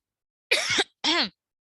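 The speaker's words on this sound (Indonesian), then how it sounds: "kalau ada batuk-batuk gitu" Two short, sharp coughs close by, one after the other with a brief pause between, and no talking.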